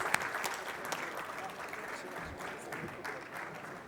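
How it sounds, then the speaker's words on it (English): Fairly faint applause from an audience at an awards ceremony, the clapping spread and steady for a few seconds with some murmuring mixed in. "Can we have a huge round of applause for all the winners?"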